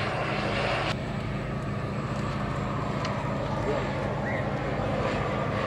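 A radio-controlled model airliner with leading edge slats flies at an RC airshow, its engine giving a steady, continuous drone while a commentator talks over it.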